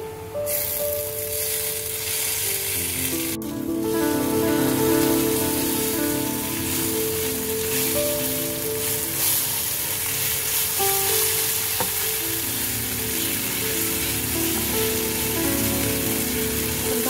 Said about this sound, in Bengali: ভালো মতো মিশ্রণটাকে তেলে ভেজে নিব